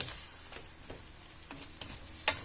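Garlic buttered shrimp in sweet chili sauce sizzles softly in a pan, with a few light, scattered utensil clicks as it is stirred and no voices.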